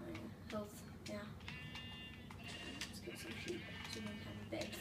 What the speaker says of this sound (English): There's a lot of sheep down here.